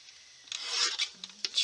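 Scissors make a few brief rasping snips as they trim a photo print, quiet and close, with short scraping cuts coming in uneven bursts.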